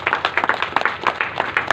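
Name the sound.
audience clapping at a kirtan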